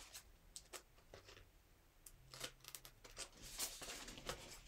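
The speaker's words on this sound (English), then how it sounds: "Cut that little divot out right there." Scissors snip through fabric while a Mardi Gras mask is trimmed from upcycled cloth, giving short, quiet, close-up cutting strokes repeated irregularly.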